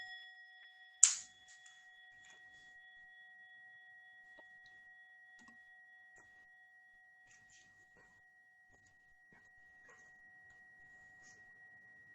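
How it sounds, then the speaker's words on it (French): A mindfulness bell is struck once near the start, a soft ring that fades into a long, quiet stillness with no further strikes. "et écouter un son de la cloche"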